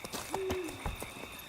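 An owl hoots once in the Witcher 3 game world, a soft, mid-distance call set within a busy nighttime nature ambience with other faint sounds around it.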